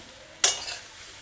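Green banana fry being stirred in a pan produces a single sharp scrape of a utensil against the pan, followed by a short fading sizzle with no talk.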